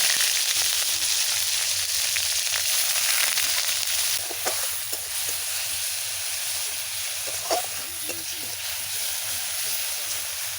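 Onion paste sizzles and hisses steadily in hot oil in a pan while cooking a katla fish do-piyaza, a loud continuous fry with a few faint clinks and no talking.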